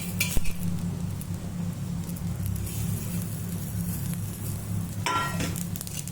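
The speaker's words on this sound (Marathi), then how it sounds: "आता आपण खोबरं आणि तिळ पण भाजून घेऊ" Coconut and sesame seeds dry-roasting in a home kitchen pan give a steady, soft sizzle and patter with occasional sharp utensil clinks against the pan, fairly close and without talk.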